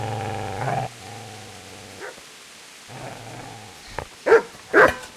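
A dog in the medieval video game Kingdom Come: Deliverance growls in low, drawn-out rumbles, then lets out two loud, sharp barks near the end, heard close and alone.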